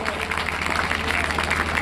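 An audience at a school farewell party applauds to welcome the staff with a dense, steady patter of clapping, and a voice speaks over it.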